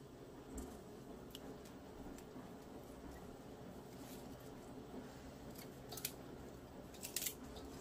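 Scissors snip young radish greens (yeolmu) during trimming for kimchi, a few soft crisp cuts scattered through a quiet kitchen, with the sharpest snips near the end.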